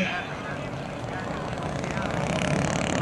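A P-47 fighter plane approaches to land at an airshow demonstration, its propeller engine droning steadily and growing slightly louder as it nears.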